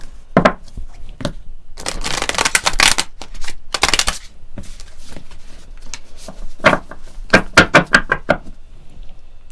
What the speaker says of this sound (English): I'm wanting to pull a couple mystical shaman oracle cards for you guys today